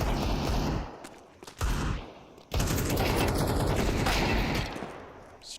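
Pistol gunfire in a Counter-Strike match comes in rapid, loud bursts of shots that stop and restart, with short gaps of quieter game ambience between volleys.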